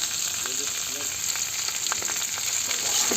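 Winter vegetables frying in a pan with turmeric and salt for khichdi, a steady close sizzle with faint stirring scrapes and no one talking.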